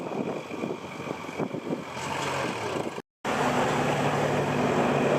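Kubota L5018 tractor, a 50-horsepower machine fitted with a front dozer blade, gives a steady diesel engine drone with some rougher labouring early on, a brief cut of silence midway, then a continuous even hum.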